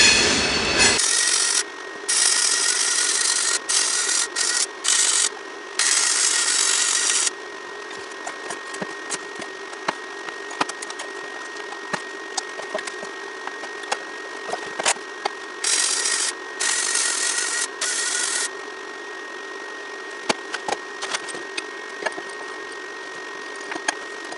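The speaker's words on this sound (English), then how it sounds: "I'm going to go ahead and get set up to weld and crawl up under there and weld our plates in" MIG welding fixes repair plates to the frame of a shop van under the vehicle. It makes a steady, crackling buzz in bursts of several seconds, split by brief stops and a quieter stretch with faint crackle.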